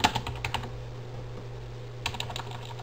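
Keys on a computer keyboard clatter in quick bursts of typing, close and distinct, with a short pause in the middle.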